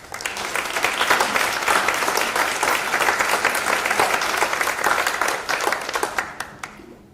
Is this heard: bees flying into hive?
no